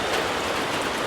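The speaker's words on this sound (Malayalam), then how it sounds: "ഗംഭീര മഴ, ഭയങ്കര മഴ." Heavy rain pouring steadily, a dense, loud, continuous hiss of drops on surfaces with no break.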